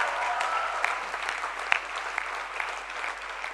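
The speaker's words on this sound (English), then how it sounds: "let's give ourselves a big round of applause for completing the IB diploma" IB diploma graduates at a graduation ceremony applaud themselves, a sustained, even roar of many hands clapping in a large hall.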